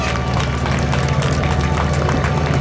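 A crowd at a seaplane air show in Biscarrosse claps steadily for a PBY Catalina, a dense, continuous patter of applause filling the whole moment.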